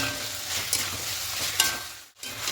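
Chicken mince with salt stir-frying in a pan for a rice pulao, a close, dense sizzle with scraping stirs and a couple of sharper scrapes, dropping to a brief hush before the sizzle resumes.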